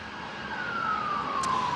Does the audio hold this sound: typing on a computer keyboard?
no